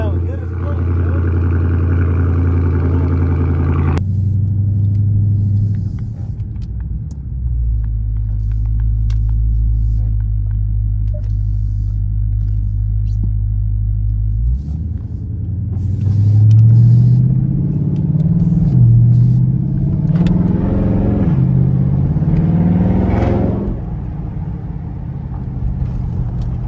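A Dodge Scat Pack 392 idles with a deep, loud rumble close by, then the revs rise and fall in a few swelling pulls; a voice can be heard over the engine.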